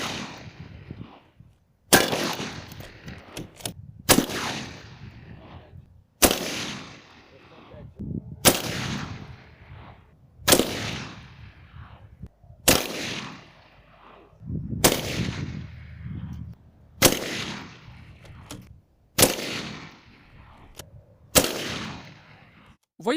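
Gunshots strike an Armored Republic A2 body armor plate, the heaviest plate being tested, in about ten loud, sharp reports at a slow, steady pace of roughly one every two seconds, each followed by a ringing decay.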